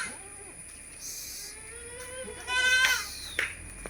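A Malabari goat kid, about a month and a half old, gives a clear nearby bleat midway through, set against a quiet farmyard background.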